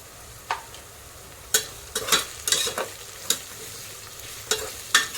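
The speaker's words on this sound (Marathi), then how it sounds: "चांगलं तेलात परतून घ्यायचं आहे या दोन मिरच्या ह्या पण टाकूया" Spices and two chilies frying in oil in a pressure cooker for chicken khichdi, a low sizzle punctuated by repeated metallic scrapes and knocks of a spoon stirring close up.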